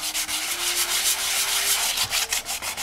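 A sanding block is rubbed by hand over the repaired gouge in a Benelli motorcycle fairing, giving continuous rhythmic back-and-forth scratchy strokes up close, with no talking.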